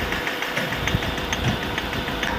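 A Mahindra Scorpio mHawk engine idles up close with a steady rough rumble and faint regular tapping knocks, suggesting heavy vibration. It is continuous, with no talking.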